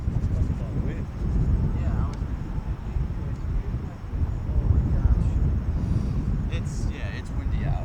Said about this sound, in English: It's windy out. It is very windy.